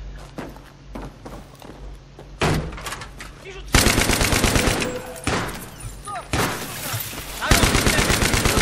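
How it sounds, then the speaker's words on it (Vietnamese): Machine-gun fire in the video game Battlefield 3 comes in loud, rapid bursts that repeat and stop, with quieter stretches of distant shots, thuds and footsteps between them. "Thôi, mình cứ bắn cái súng máy đi."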